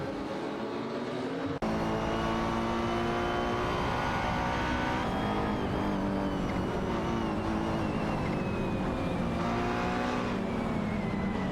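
An Audi R8 LMS Ultra and a Lamborghini Huracan GT3 race in a video game, engines droning loudly and continuously with rising and falling gear-change pitch sweeps, close and unbroken with no voices.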